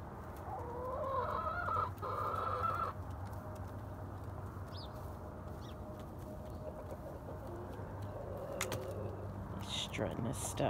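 A rooster among a small backyard chicken flock on a homestead clucks and calls at a distance over a steady outdoor hum, with a person speaking softly at times.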